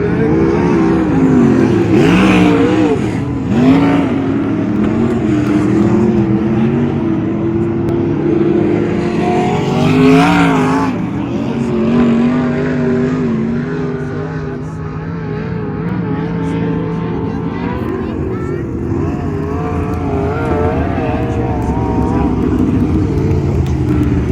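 Sprint cars racing at Arizona Speedway, loud roaring engines passing and revving in waves, close and continuous for the whole stretch, with a voice heard faintly under the noise.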